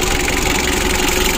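A Mitsubishi L300 diesel engine from 2017 idles steadily, with a constant close rumble and a fine rhythmic clatter that holds at the same level from start to finish.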